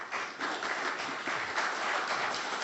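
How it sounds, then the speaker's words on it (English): Brief audience applause breaks out in a city council meeting, a dense, even burst of many hands clapping that holds steady for a few seconds. "Finally, I got a little applause on that."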